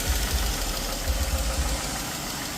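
Replacement 3.6 V6 in a 2017 Dodge Charger runs at idle after its first start, a steady close engine hum with a low, pulsing throb underneath and no voices.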